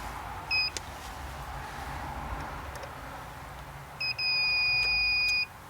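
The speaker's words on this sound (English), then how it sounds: "I'm going to put it back into ohm mode and turn the beeper on." A multimeter in ohm mode with its continuity beeper on gives a short electronic tone, then a longer sustained beep about a second and a half later while working on a hot tub repair, heard over faint room noise.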